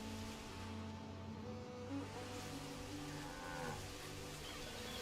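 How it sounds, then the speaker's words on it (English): Cattle lowing in the Roman-era city builder Anno 117: faint, low, sustained moos over a hushed, rain-like ambient hiss, with no voices. "I swear I heard a cow."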